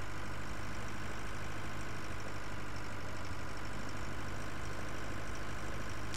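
A Zetor tractor engine idles in Farming Simulator, a steady broadband drone with a low rumble holding constant and fairly loud throughout, no voices over it.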